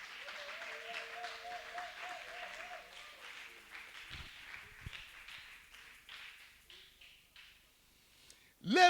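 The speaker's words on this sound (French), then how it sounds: "est-ce qu'on peut acclamer pour la gloire de Dieu?" Church congregation applauding and cheering, a steady wash of clapping that swells and fades over several seconds, with voices and a sustained musical tone underneath and a louder burst at the end.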